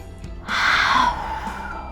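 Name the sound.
breathing out and in, relaxation exercise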